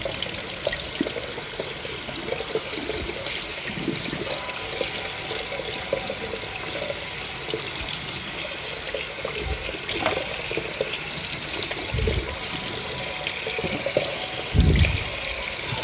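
Tap water runs steadily over a washing machine filter being rinsed clean in a sink, a continuous close hiss and splash with occasional heavier gushes and knocks toward the end.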